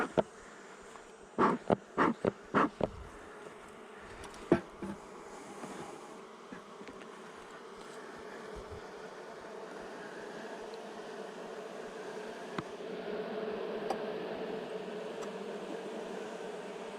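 Honeybees buzz softly around a hive during an inspection in a steady low hum, with a cluster of sharp clicks and knocks near the start and a few scattered taps later.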